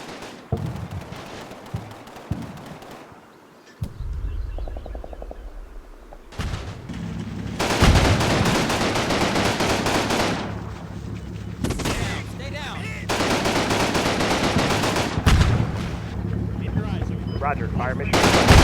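Mortar and small-arms fire crackle in the war game Combat Mission Fortress Italy during an assault on a church at Vellebruca. Sparse shots give way to loud sustained bursts of machine-gun fire and booms, with a voice talking over parts of it.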